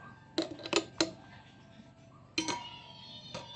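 Knife chopping a green mango into small cubes, a few sharp taps against a board in two brief clusters, close and fairly quiet.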